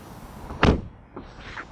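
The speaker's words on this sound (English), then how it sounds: "Apparently they're engineered to make a quality sound when they shut." A BMW 4 Series car door shuts with a single solid thunk, close and fairly loud, followed by a quieter second knock and soft rustle.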